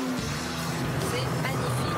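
A race car drives at over 200 km/h on a frozen lake during ice racing, its engine droning steadily under a voice talking over it.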